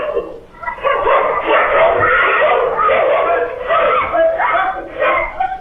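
Several dogs bark and yelp in a frantic, continuous burst while attacking a child, with screaming and people's voices mixed in throughout the loud, crowded scene.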